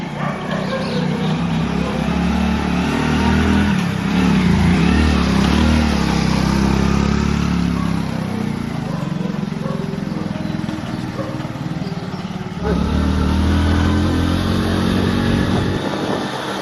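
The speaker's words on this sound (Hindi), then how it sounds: "इसको ऊपर हमें जाना है बाइक लेकर के" A Hero Splendor motorcycle climbs the hill road up to Amer Fort in Jaipur, its engine droning steadily and close throughout amid wind and outdoor noise, with a rider talking over it.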